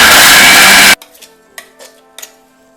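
A mixer grinder whirs loudly as it spins urad dal powder with asafoetida and salt into a chutney powder, then cuts off abruptly, leaving only faint clinks and light knocks.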